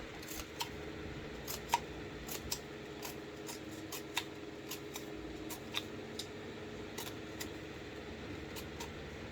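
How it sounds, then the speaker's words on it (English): Scissors snipping while cutting materials for a back-to-school desk organiser craft: a quiet run of light, crisp cuts at irregular intervals over a low background hum. "again get your gluey scissors, go back round"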